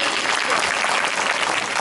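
An audience at a bhajan competition breaks into dense, steady applause, loud and continuous for the whole moment, with a faint crowd murmur underneath.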